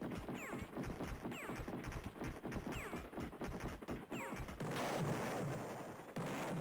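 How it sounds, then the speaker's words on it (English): Amiga video game explosions and gunfire in quick succession, punchy repeated blasts with descending whistles, ending in a louder rumbling burst. "Lovely meaty explosions on the Amiga."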